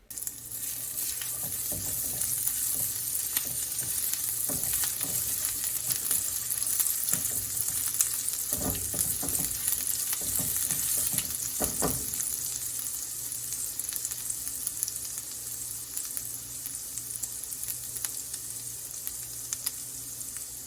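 Ginger sizzling in oil heated on a stove at medium-high heat, a steady, dense frying hiss that runs unbroken throughout, with a few soft clinks and stirring knocks partway through.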